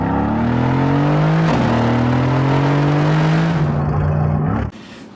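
A 2018 Audi S5 Sportback engine revs up loud and close, exhaust note climbing in pitch in sustained pulls with a brief dip, then cutting off abruptly near the end.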